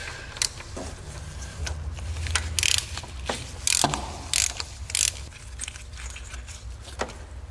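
A ratchet turns 13 mm fasteners off the thermostat housing on the front of a 2001 GMC Sonoma 2.2L engine block. Close, quick clicking runs in short bursts with small metallic knocks between them.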